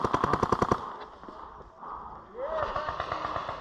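Paintball guns fire in a fast burst of about eight closely spaced pops during a 10v10 outdoor game, then quieter shuffling and movement follow, with a short whistle-like tone near the end.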